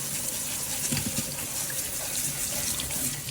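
Tap water runs steadily over dried hibiscus (jamaica) flowers being rinsed in a kitchen sink, a constant close hiss and splash with small splatters and no talking.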